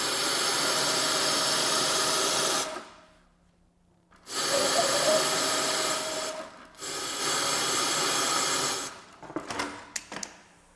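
A sewing machine stitches a fabric dart in loud, steady motor-driven runs, stopping twice with short pauses before a final burst of brief clicks and stops.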